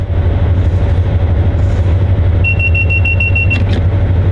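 Steady low engine drone and rail rumble of a train running in Train Sim World 6 on a GWE route, close and continuous, with a brief high squeal and clicking near the end.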